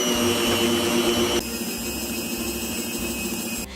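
An electric mixer runs loud and close at speed 3, whirring through cookie cake batter with a steady motor drone that drops in pitch partway through, then clicks off at the end.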